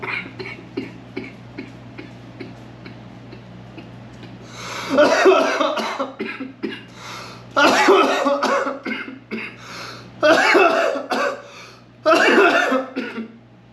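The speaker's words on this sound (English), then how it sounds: "I coughed right in y'all faces." Several heavy, close coughing fits from a person who has just smoked cannabis come in bursts, each a cluster of harsh coughs separated by short quiet breaks, over a faint steady hum.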